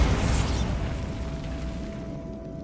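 Bombarda explosion spell in the video game Hogwarts Legacy: a single loud, close blast that hits at once and rumbles away over a couple of seconds, with no voice over it.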